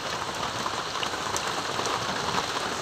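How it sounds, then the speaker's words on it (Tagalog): Steady rain falls at night over a farm field in the countryside, a dense, even hiss of drops with no pauses, fairly close and continuous throughout. "Gabing ulan guys."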